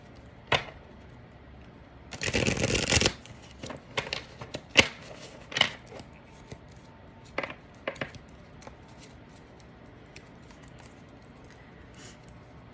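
Tarot cards shuffled by hand during a reading, a dense riffling burst near the start followed by scattered soft snaps and taps of cards being laid down, close and quiet with no talking.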